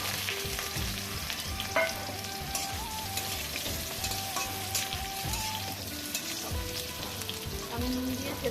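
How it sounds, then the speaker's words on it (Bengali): Pre-boiled potato and jackfruit fry in hot oil, a constant crackling sizzle with occasional utensil clinks and stirring, moderately loud and unbroken, with no voices. "এবার আমি আগে থেকে সেদ্ধ করে রাখা আলু আর এঁচড় একে একে ভেজে"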